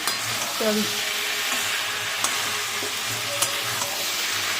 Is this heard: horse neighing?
no